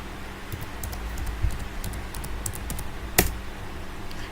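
Light tapping on a computer keyboard as a command is entered, a scattering of soft clicks over steady background hiss, with one sharper keystroke standing out near the end.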